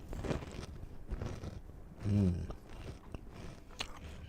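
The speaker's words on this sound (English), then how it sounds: "Tasty. That's good crunch." A few crisp bites and chews on a spicy chip, with a stronger crunch near the middle, close and fairly quiet with no talking.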